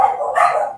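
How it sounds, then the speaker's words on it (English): A single short dog bark, loud and close, one sharp yip-like woof heard alone. "That's my one dog."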